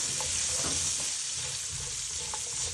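Onion hits a hot pan and sizzles in a dense, steady hiss, with soft stirring knocks underneath, close up and without voices.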